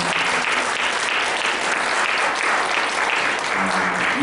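A church congregation claps steadily and continuously on Easter Sunday, a dense, even wash of applause from many hands throughout.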